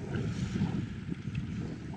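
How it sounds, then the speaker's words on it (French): Gusty headwind buffets the microphone of a cyclist in low, rumbling bursts, a rough roar with no voices, loud and close. "j'ai le vent dans la gueule"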